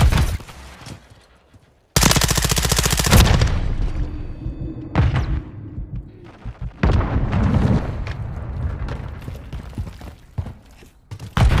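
In Call of Duty MW3, a frag grenade blasts with a sharp, loud boom amid bursts of rapid automatic gunfire and scattered shots, with loud and quieter stretches alternating through a chaotic firefight.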